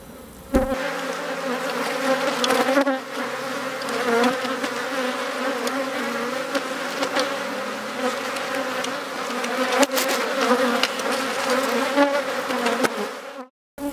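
Honey bees buzz steadily at a hive entrance in an apiary, a dense, close, continuous drone that holds for most of the stretch and then cuts off abruptly.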